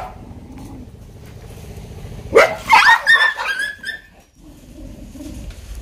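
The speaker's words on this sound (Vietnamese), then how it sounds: "Mới buổi sáng thôi mở cửa ra là thấy mấy bé chó nha." Several dogs barking outside in the morning, a loud, close burst of overlapping barks and yips lasting about two seconds, with faint bird calls around it.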